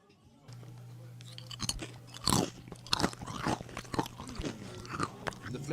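Close, crisp chewing and crunching of restaurant food with cheese and bacon at Tribe in Valletta, with repeated bites and munching over a steady low background hum.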